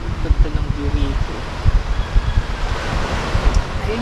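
Sea waves at Siruma Beach in Camarines Sur wash in as a broad, rushing surf, mixed with gusty wind buffeting the microphone in uneven bursts, with faint voices in the background.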